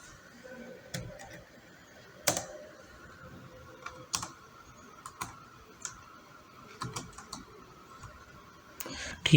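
Scattered keystrokes on a computer keyboard tap out text in irregular clicks, some sharper than others, fairly close and quiet, with a voice faintly present between them.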